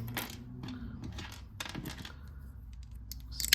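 A Ravenna wheeled mosaic cutter snaps through a glass tile, giving a crisp crack followed by a few sharp clicks and small chinks of glass pieces, close up with no voices.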